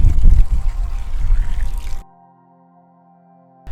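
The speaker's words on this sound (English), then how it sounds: "the first thing you really want to do is fill this hole right up with water and let it soak away" Water pouring from a container into a dug planting hole for a container-grown tree, a loud gurgling splash for about two seconds that stops abruptly, leaving near silence before a brief sound at the end.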